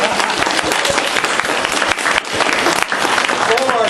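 Steady audience applause filling the whole stretch, dense clapping from a live crowd at a comedy show, loud and continuous with slight dips in intensity.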